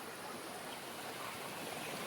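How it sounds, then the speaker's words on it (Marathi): Waterfall pouring in a constant, dense broadband rush, soft and even throughout with no voices or other sounds. "आमचा धबधबा कसा आहे"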